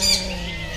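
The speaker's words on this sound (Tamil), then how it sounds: "இங்கே பார்த்தீங்களா, பஞ்சவர்ண கிளி சூப்பராக இருக்குது." A macaw squawks at close range amid the busy hum of an indoor pet market in Kuwait, one harsh burst at the start trailing into steady crowd and room noise.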